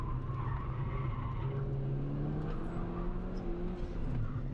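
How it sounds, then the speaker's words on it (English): A lowered VW MK5 cornering hard lets out a sustained tire squeal and skid, steady and moderately loud with engine noise underneath and no speech. "it's just a little squeal and not quite as much of a skid as previously"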